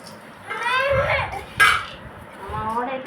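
A spoon clinks and scrapes against a bowl while poha flakes are mixed with chili powder, in short bursts with a sharper clink midway, as children's voices chatter in the background.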